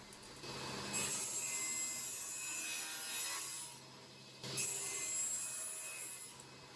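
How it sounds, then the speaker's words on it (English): A table saw rips wooden boards lengthwise, a steady broadband cutting whine that runs for several seconds, dips briefly, then resumes for a second pass, with no talking. "I take one of the longer ones and 2 short ones over to the table saw, and I'm going to rip those down by an inch"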